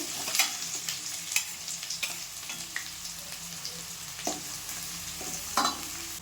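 Chopped onion sizzles steadily in hot oil in a pan, with a continuous frying hiss and a few sharp clinks and scrapes of stirring close by, no voices over it.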